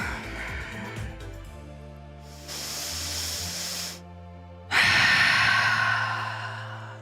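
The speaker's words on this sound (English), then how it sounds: "take 2 full rest breaths here" Deep, full breaths are taken while lying in a reclined yoga pose, heard as long airy inhales and exhales close to the microphone over a soft sustained musical background.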